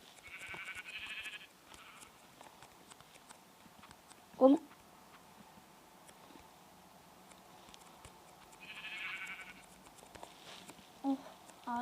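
Two short sheep bleats, one early and one late, under quiet game sounds with a single sharp knock in the middle.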